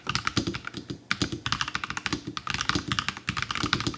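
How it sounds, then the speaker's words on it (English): Rapid, clacky keystrokes on a NuPhy Halo 75 mechanical keyboard, typed in quick bursts with brief pauses, close and crisp. "The keyboard sounds really pleasant when you're typing"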